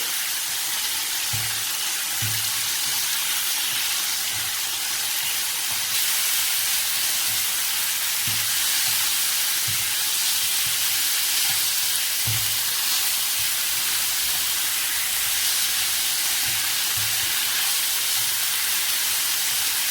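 Chicken pieces frying in a pan for homemade shawarma, giving a steady broad sizzle and hiss throughout, with occasional soft stirring knocks, close and fairly loud with no talking.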